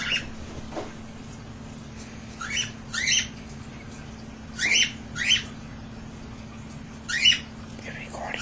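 Baby cockatiels, nine days old, make thin, rasping squawks in quick pairs and short clusters, soft and nearby over a constant background hum.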